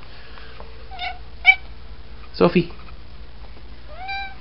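A house cat meows several times in a room with a drum set, short calls spaced apart with one rising meow at the end, and a person speaks briefly.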